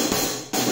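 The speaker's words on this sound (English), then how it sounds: "I have this hi-hat by the brand Dear Symbols." A 16-inch hi-hat cymbal on a drum kit, struck in two quick bright washes close up, the second hit following about half a second after the first, with no talking.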